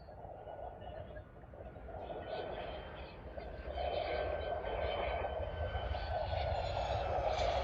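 Boeing jet landing on runway 25R at Brussels Airport in gusty wind, a broad engine roar heard from a distance that swells steadily louder over several seconds, with wind noise and no clear talking.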